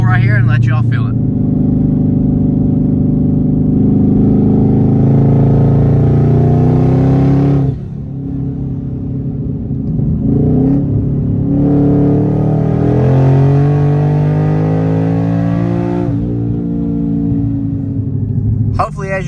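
A car fitted with an On3 twin 55mm turbo kit pulls hard from inside the cabin. The loud engine note climbs steadily through two rising sweeps with a shift break between them and a brief lull after the first.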